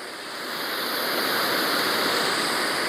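Rushing water from a waterfall pours in a steady, dense hiss that swells slightly at the start and then holds loud and even, with no voices.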